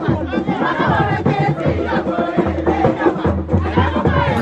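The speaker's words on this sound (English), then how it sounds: "If you see the crowd that gathered for her today, the women, they were just singing." A large crowd of women sings together at an outdoor political gathering, many voices blending into a loud, continuous chant with a steady rhythm and scattered shouts throughout.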